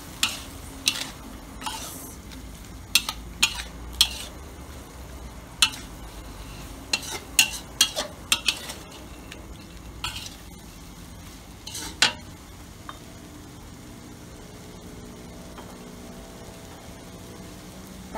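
Spicy stir-fried pork neck tossed in a pan with curry paste, a soft steady sizzle punctuated by repeated sharp scrapes and clacks of a spatula against the pan, close and irregular.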